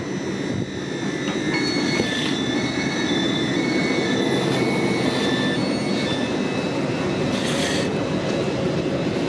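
Steady, loud rumble and hiss of a GWR Class 802 train running near Didcot Parkway, with faint high tonal whines drifting above a constant roar.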